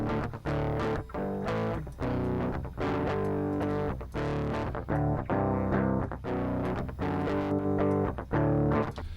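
Heavily distorted electric guitar plays continuous chords and riffs, gritty and loud, with no pauses or talking.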